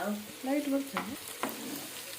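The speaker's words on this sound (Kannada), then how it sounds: "ಇದು ಎಣ್ಣೆಯಲ್ಲಿ ಚಂದ ಫ್ರೈ ಮಾಡ್ಬೇಕು" Chopped onions frying in oil for soya chunks kebab, a soft continuous sizzle with scraping stir strokes and brief tonal clanks of a utensil, fairly close and moderate in level.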